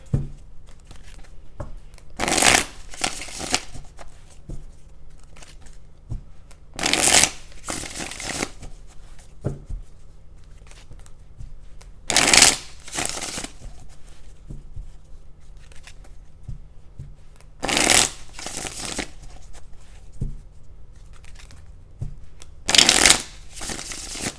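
Tarot cards are shuffled in repeated bursts, each a quick riffling flutter followed by a pause, five rounds in a row with no talking.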